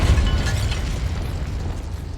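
A Confringo blasting spell from Hogwarts Legacy gives a short, loud explosive boom that fades into a rumbling tail, heard alone without talk.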